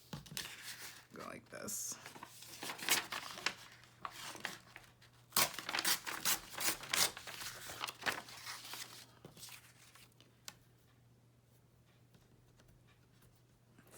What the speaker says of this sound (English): let me grab my tearing ruler. And I am just going to tear this out.